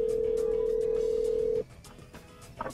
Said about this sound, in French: Restaurant Park, sur le téléphone mobile,